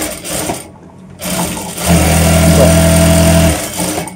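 A JACK A2C industrial sewing machine starts with a few short stitching bursts, then runs at a steady fast whir for about two seconds before slowing and stopping, loud and close.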